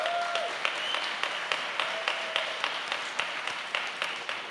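Audience applause at a 50th anniversary gala for a seniors' charity: steady, dense clapping from a large crowd, held at even loudness the whole time, with a few sharper individual claps standing out.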